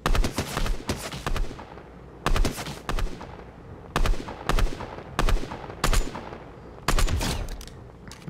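Bursts of automatic gunfire from a Fortnite match ring out in short, sharp volleys, roughly a dozen rapid strings separated by brief pauses, loud and close.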